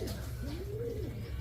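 A soft, low cooing call rises and falls once over a steady low hum, like a single pigeon calling nearby in a pigeon loft.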